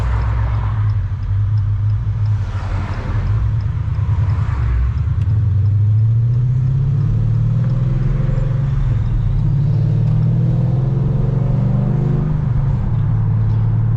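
A Dodge Challenger 6.4L Scat Pack with Spintech 9000 Prostreet mufflers rumbles loudly and close by, its deep exhaust note rising in pitch midway through a rev before settling, with no speech over it.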